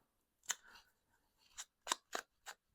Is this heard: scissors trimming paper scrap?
yes